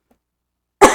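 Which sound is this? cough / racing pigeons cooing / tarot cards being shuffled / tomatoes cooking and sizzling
cough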